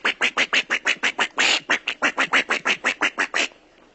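A duck quacks in a rapid, even series of about twenty loud, close calls, one slightly longer in the middle, then stops abruptly.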